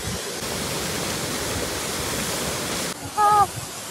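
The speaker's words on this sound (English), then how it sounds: "We are going to cross the waterfall." Broadband roar of a waterfall on the mountain hike to Tiger's Nest monastery in Paro, Bhutan, loud and steady throughout, with a brief change near the end as a voice briefly sounds over the rushing water.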